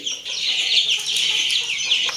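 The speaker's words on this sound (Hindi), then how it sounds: "मुर्गा खा ही नहीं रहा, सबको बुलाने पे लगा हुआ है।" A rooster makes a continuous run of rapid, high clucking calls close by, busy and chattering, with other birds faintly in the background.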